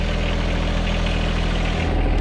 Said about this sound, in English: is a John Deere 1023E subcompact tractor